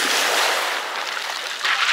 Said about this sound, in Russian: О, волны